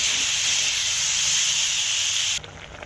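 Small fish fry in hot mustard oil in a pan, giving a loud, steady, close sizzling hiss that cuts off sharply near the end, leaving a faint background.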